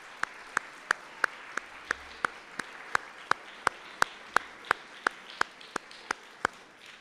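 At a school chapel on Trustees Visitation Day, an audience greets the trustees with clapping heard as a steady series of sharp, evenly spaced claps, about three per second, moderately quiet with a soft room murmur behind them.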